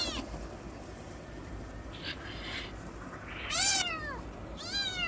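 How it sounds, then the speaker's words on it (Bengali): A small cat meows twice, thin high-pitched cries near the end, over a quiet room with faint background noise and a brief high whine. "একেবারে ছোট্ট একটা বিড়াল"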